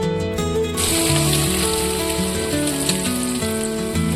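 Steady, dense sizzling of mashed pav bhaji vegetables frying in hot oil in a kadhai, loud and close, continuous throughout with a bright crackling hiss.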